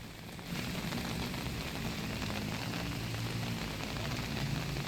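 Heavy rain falls in Hyderabad as a steady, dense hiss of drops on hard surfaces. It swells slightly after a brief softer start and then holds evenly, close and fairly loud, with no voices.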